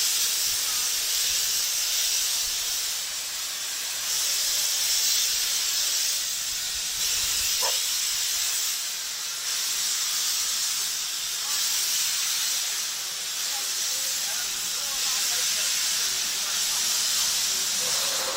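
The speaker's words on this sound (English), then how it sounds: "Steaming well on the final climb in Beckford Wood before crossing Whillan Beck itself and arriving at Dalegarth Station at the end of the 7-mile line." A Ravenglass & Eskdale Railway steam train climbs through Beckford Wood, heard as a loud continuous steamy hiss and rumble that holds steady throughout, with one brief higher squeal midway.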